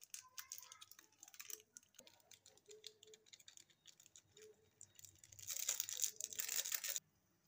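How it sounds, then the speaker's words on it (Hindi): A small Maggi masala sachet being cut open and handled nearby, with soft scattered ticks and crinkles giving way to a louder rustling burst toward the end. "हम इस मैगी मसाले को काट के बाहर निकालने लगते हैं।"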